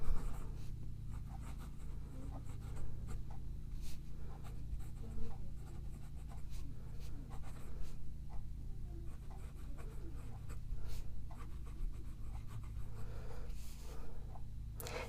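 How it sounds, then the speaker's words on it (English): A Pilot Custom Kaede maple fountain pen, inked with Pilot Kon-Peki, scratches softly across smooth Tomoe River paper in steady, close strokes with brief pauses between letters. "This pen writes so nice on this smooth Tomo River paper"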